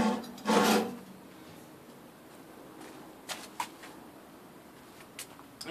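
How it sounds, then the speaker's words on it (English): A metal pallet fork slides onto a tractor bucket: one loud scraping rasp near the start, then a few short, faint clinks and taps of metal on metal. "One fork will slide on."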